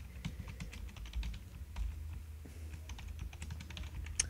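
Computer keyboard typing as code is entered into a Flash game file, a steady run of soft, close key clicks with quick irregular rhythm and no talking.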